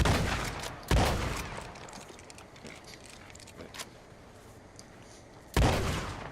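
A shotgun firing in the video game Red Dead Online, two loud close blasts separated by a long pause with lighter clicks of reloading and handling in between.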